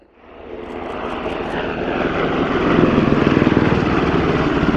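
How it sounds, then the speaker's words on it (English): A Gripen fighter jet's engine roars steadily as it lands at an airshow, building louder over several seconds as it passes close overhead, with a rumbling, whining drone and no voices. "As the Gripen comes into land over the threshold"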